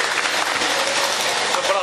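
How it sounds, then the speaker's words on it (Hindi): Applause from the audience at a Hindi poetry gathering in Bareilly, a dense steady wash of clapping lasting under two seconds with no break. "एक बार जोरदार तालियां होनी चाहिए डॉक्टर MM अग्रवाल जी के लिए।"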